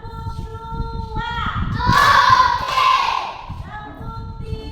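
A group of children claps in unison in a classroom, a few sharp bursts of rhythmic clapping rising over the room's chatter and fading again.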